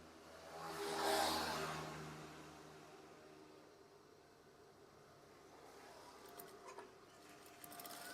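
A sewing machine stitches swag curtain fabric in a brief mechanical burst that swells loudly near the start and then fades, followed by quieter clicks and handling noises near the end.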